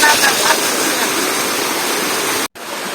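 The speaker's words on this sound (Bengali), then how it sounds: "আর এখানে উপরে হয়তো সবচেয়ে বড় যে ঝর্ণা সেই ঝর্ণাটা কিন্তু উপরে" Roaring waterfall in the hills of Ghagra, Rangamati, a loud, steady broadband rush of falling water heard up close, briefly cut off near the end.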